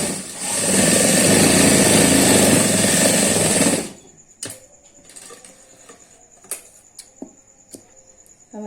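Sewing machine stitching kurti jacket fabric, a loud continuous whir for about three seconds that stops abruptly, followed by scattered clicks and light handling noises.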